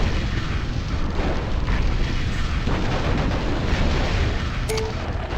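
Enemy fire in the MechCommander game produces a heavy, continuous barrage of booming explosions and rumbling blasts, loud and dense from start to finish, with a short electronic tone near the end.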